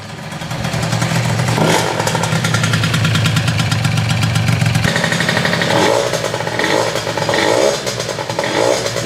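An MBK Nitro scooter engine running after water pump and head gasket work, idling with a clattery mid-pitched buzz and a few blips of revving, close and alone.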